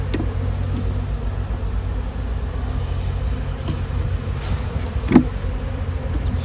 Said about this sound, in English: See some bees on the sides of the boxes here as well